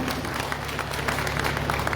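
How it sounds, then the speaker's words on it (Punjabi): Audience applause at an Aam Aadmi Party rally in Jakhal, a steady dense wash of clapping from a large crowd lasting a couple of seconds, heard continuously and without clear speech on top. "ਇੱਕ ਵਾਰੀ ਤਾੜੀਆਂ ਇਸ ਗੱਲ ਤੇ ਜ਼ਰੂਰ ਮਾਰੋ"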